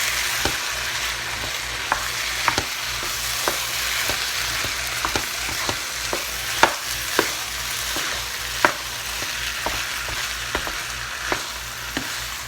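Vegetables and other ingredients are stirred together in an overfull pan over a steady sizzle, with a spatula scraping and tapping the pan at irregular intervals, close up, no talking.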